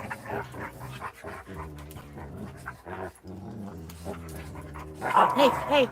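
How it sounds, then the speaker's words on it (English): Several dogs growl, pant and bark close by in a small indoor space, a noisy jumble throughout that grows louder toward the end. "I apologize for barking dogs."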